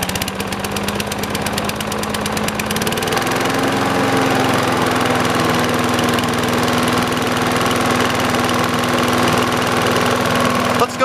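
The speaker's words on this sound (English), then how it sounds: "Let's run it at low, idle." A Craftsman leaf vac chipper's small engine runs at idle with the choke engaged, a loud, steady mechanical drone with a rapid chugging pulse that settles slightly in pitch and carries on without a break.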